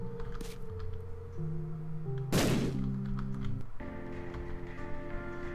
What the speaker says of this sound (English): We'll drop a bomb here.